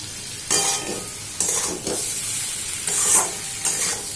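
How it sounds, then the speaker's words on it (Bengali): A curry seasoned with Kashmiri chilli is stirred and sautéed in a pan, giving a steady sizzle with repeated scraping strokes at a close, even level. "কাশ্মীরি লঙ্কা দিয়ে আমরা লাল টকটকে করে ফেলি। কষতে হবে, কষতে হবে,"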